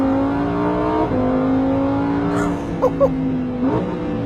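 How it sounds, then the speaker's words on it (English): A high-revving Ferrari Enzo V10 engine holds a strong, steady tone. Its pitch dips and climbs again, with a few short blips near the end, loud and close. "what a very angry Italian V10 and 631 horsepower actually sounds like"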